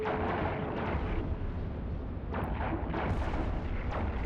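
Spaceship weapons firing in EVE Online during a combat mission, a steady rumbling barrage of booming, explosive shots that continues without a break through the whole stretch, with little talk.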